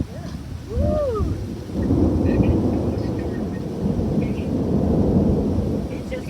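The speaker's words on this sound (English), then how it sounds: "There's the thunder from it." Thunder rolls in loud and close right after a nearby lightning strike during a storm with high winds, a sudden crack giving way to a sustained rumble over rain, with a brief voice near the start.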